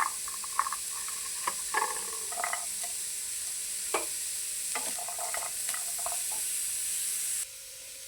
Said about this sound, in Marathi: कांदा चांगला तांबूस कलरचा होईपर्यंत भाजून घ्यायचा आहे. त्याचबरोबर याच्यामध्ये लसूण पण टाकून घेऊया.